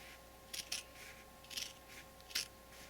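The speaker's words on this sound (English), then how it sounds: "So the first thing we want to do is we just want to trim off these edges." Scissors snip through the edges of chenille fabric, three quiet separate cutting strokes, each a quick double snip, close up with no talking.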